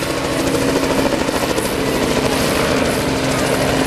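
Robinson R44 helicopter with a two-blade rotor and tail rotor at the Rotorfest 2010 event, giving a loud, steady rotor drone with rapid rhythmic chopping throughout, close by.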